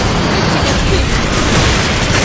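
A loud, dense explosion fills a Gundam video game as an enemy mobile suit is shot down, a continuous roaring blast with heavy low rumble and no talking over it.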